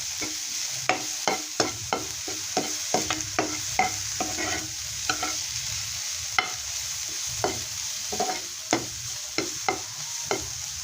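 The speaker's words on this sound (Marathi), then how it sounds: "गाजर होतं ते चांगला भाजून घेऊया आपण बाकी त्यामध्ये ॲड करू मस्त असं भाजून घेऊ" Carrot pieces roasting in a pan for Indian carrot kheer, with a steady frying sizzle broken by frequent short scrapes and taps of a spatula as they are stirred, close and moderately loud, with no speech.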